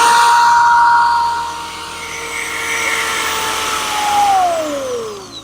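A small electric motor spins freely during a generator voltage test, its whirring pitch sliding down and rising again, close and fairly loud with no voice over it.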